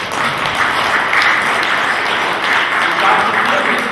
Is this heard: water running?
no